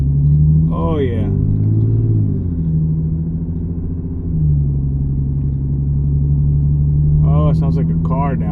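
A Lexus IS with an aftermarket axle-back exhaust idles with a low, steady exhaust rumble, swelling slightly around the middle, while someone speaks briefly at the start and end.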